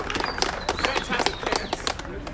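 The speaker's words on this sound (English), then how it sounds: "Give Nico a big round of applause, everybody" Crowd applause at an outdoor political rally in Washington DC, scattered clapping and cheering with voices shouting over it, moderately loud and continuous for a couple of seconds.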